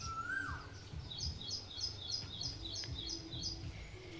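A small bird chirps in a quick, evenly spaced series of bright, short calls, fairly near, over a low steady background rumble; no one speaks.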